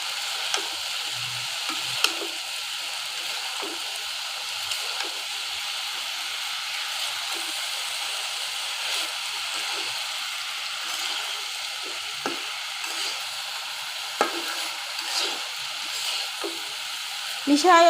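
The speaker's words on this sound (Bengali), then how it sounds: "এখন আলু আর বেগুনটা ভালোভাবে মিশাই নিচ্ছি" Potato and eggplant being stirred while they cook, with a steady soft sizzle and hiss, faint intermittent scrapes and taps against the pan, and a voice talking quietly over it.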